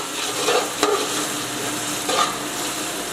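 Finely chopped and whole green chillies fry in a pan for tori sabzi, giving a steady close sizzle with a couple of brief stirring scrapes.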